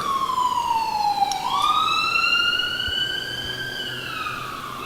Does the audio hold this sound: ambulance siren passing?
yes